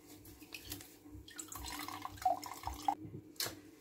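Cucumber water draining out after being poured, a soft irregular trickle with scattered drips, fairly quiet and close, with no talking over it.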